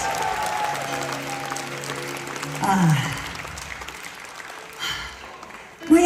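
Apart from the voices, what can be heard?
audience applauding at a concert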